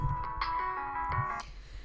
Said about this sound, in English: Sorry about my phone going off a million times.